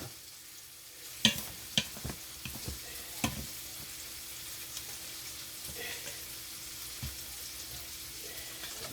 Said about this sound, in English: And we're gonna stir this up.